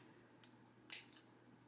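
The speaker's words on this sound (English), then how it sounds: "Probably want to use a not great scissors for this" Scissors snipping paper word cut-outs, two or three quick crisp snips close by, otherwise quiet.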